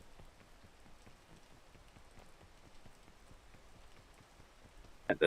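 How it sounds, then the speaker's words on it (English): Rain falls in a video game as a faint, steady pattering on surfaces, with a soft rhythmic ticking throughout and a short sharp knock at the very end, no voices heard. "How long does this rain for?"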